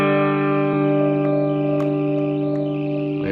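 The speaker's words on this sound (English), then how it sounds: "Let's go with the tremolo, see what that sounds like." Electric guitar played through a Silvertone 1484 amplifier with its tremolo engaged: a sustained, ringing chord holds steady and loud for a few seconds, with a light pulsing shimmer and no talking.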